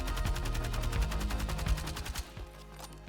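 Rapid automatic gunfire from a weapon held down against recoil in Battlefield 6, a fast regular burst of shots for about two seconds that then stops, leaving a short tail.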